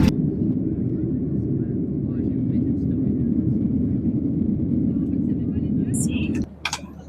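Steady low rumble inside an airplane cabin waiting to take off, a dense continuous roar that cuts off abruptly near the end, with brief higher sounds afterward.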